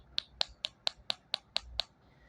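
Hard bottom of a firework's packaging being tapped eight times in an even, quick rhythm, each a sharp, crisp click, close and fairly quiet with no talking.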